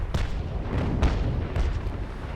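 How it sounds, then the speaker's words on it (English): Ship cannons on a sailing cutter fire in the Naval Action naval warfare game, several deep, rumbling booms in quick succession that roll into one another, loud and close, with no voices. "You can see and hear that the cannons have been improved."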